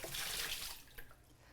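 Hot water runs from a tap in a kitchen during baking, a faint, steady rush that fades over a second or so, with no voices over it.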